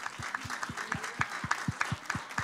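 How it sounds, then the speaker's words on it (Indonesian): A church congregation claps in a steady rhythmic beat during a Sunday service, even hand claps spaced about every quarter second, moderately close. "Beri tepuk tangan buat Tuhan."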